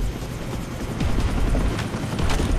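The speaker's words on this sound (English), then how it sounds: "I'm at the chopper now" A helicopter in the video game Far Cry 3 thumps with a rapid, steady rotor chop, loud and close, holding a constant beat throughout.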